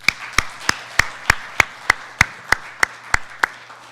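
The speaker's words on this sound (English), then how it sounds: "Let's give them a round of applause" Slow, evenly spaced hand claps ring out about once every third of a second at a National Honor Society induction ceremony, sharp and fairly close, with no crowd wash behind them.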